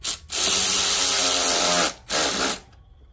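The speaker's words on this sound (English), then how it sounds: "we're just going to go ahead and tighten this clamp back up as well here." An 8mm power driver whirs in two sustained bursts, a long run then a shorter one, while tightening an intake hose clamp during a cold air intake install on a 2021 Dodge Durango 5.7, loud and close with no talk.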